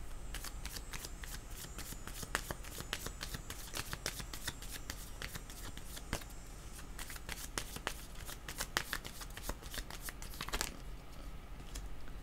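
A deck of cartomancy cards is shuffled up close, with a steady run of crisp riffling flicks and slaps, quiet and alone.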